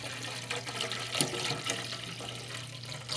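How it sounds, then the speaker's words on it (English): Tap water from Denver running to fill up containers, a steady gushing stream with small splashing surges, fairly close and moderately quiet, with no talking. "So what I'm going to do is I'm going to fill up both of these containers"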